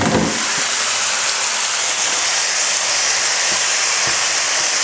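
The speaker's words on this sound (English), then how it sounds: "going to put in the pasta that we drained off" Drained pasta hits a hot pan of bacon and mushrooms, setting off a loud, steady steamy hiss that holds evenly with a few faint clinks.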